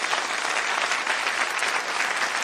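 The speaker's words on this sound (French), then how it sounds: "Applaudissements." An audience claps steadily at the opening of a city Chinese painting festival competition, a dense, continuous burst of applause with no voices on top, lasting a couple of seconds.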